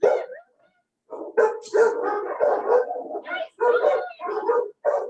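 Several dogs bark and yip in quick overlapping bursts inside animal shelter kennels, loud and close, with a short pause before the barking resumes almost continuously.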